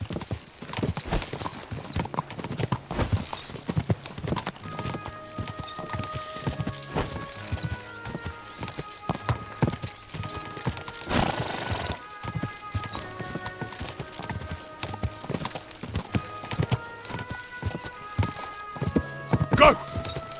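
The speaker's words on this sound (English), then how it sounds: "The saddle and straps clatter. Hoofs of steel glisten." Steel-shod horse hooves clip-clop at a quick pace with saddle and strap clatter in Kingdom Come: Deliverance II, a horse whinnying near the end over light music.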